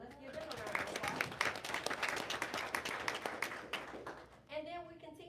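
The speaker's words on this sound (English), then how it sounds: "Let's give them a round of applause." Applause rises at a school board meeting, a thin round of clapping from the audience that lasts several seconds and stays moderately distant, with some voices mixed in.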